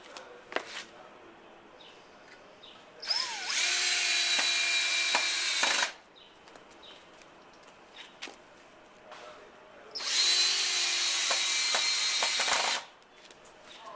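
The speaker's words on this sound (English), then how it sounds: "Now I'm just going to put screws in there." A power drill drives 2.5-inch screws into wood while a stand for a spinning compost bin is built, with two steady whirring bursts of a few seconds each. Quieter handling clicks and taps come between them.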